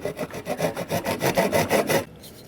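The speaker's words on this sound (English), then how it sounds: "So I will trim the end off and also cut a diagonal." A hand saw cuts the end off a wooden broomstick with about a dozen quick, rasping back-and-forth strokes, close by, before stopping abruptly.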